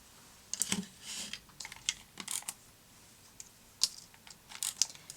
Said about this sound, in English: I thought I could bring in this little leaf punch with some green pound paper